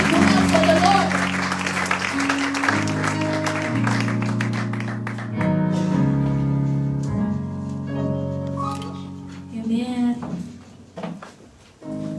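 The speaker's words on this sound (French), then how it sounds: "En acclamant très fort le Seigneur" A church congregation cheers and applauds loudly for a couple of seconds. Music and a voice then take over and continue underneath to the end.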